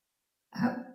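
A single short cough, abrupt and close, following a moment of silence.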